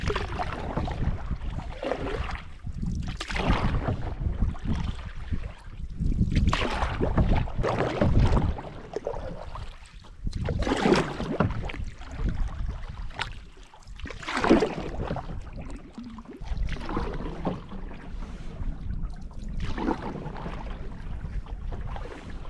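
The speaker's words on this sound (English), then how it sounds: "I am going to just paddle this big lake with the wind at my back" A canoe is paddled across big Wabakimi Lake with the wind behind it. Paddle strokes swish and splash in an uneven rhythm under strong gusty wind noise on the microphone, close and loud, with no speech.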